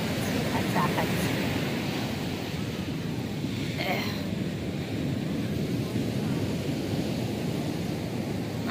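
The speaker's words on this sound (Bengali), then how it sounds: "আজকেও ঢেউটা খুব সুন্দর সুন্দর ঢেউ আছে।" Ocean waves breaking on a shore, a constant rumbling wash with wind buffeting the microphone, steady and loud throughout.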